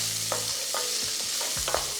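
Very fatty guanciale renders in a dry pan with no oil, giving a steady close crackling sizzle broken by a few scraping stirs and soft pops, with no one talking.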